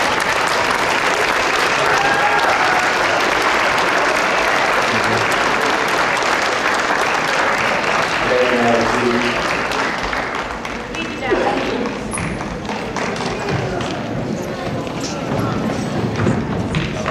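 An audience at a school academic awards ceremony gives a long, steady round of applause for students earning all A's, dense crowd clapping throughout with voices mixed in.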